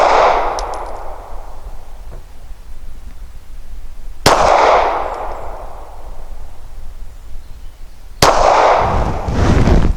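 Three sharp pistol shots ring out, spaced about four seconds apart, each firing Federal Premium Micro 150 grain ammunition from a Maddy Custom G43 at a range, with loud reports and decaying echoes.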